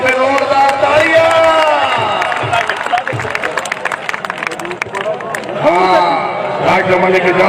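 A crowd at a kabaddi match claps and cheers loudly and continuously, with a commentator talking over the applause.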